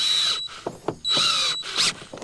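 A power drill tightens a clamp on a DIY chicken-tractor watering rig, whirring loud and close in three short high-pitched bursts with brief pauses between them.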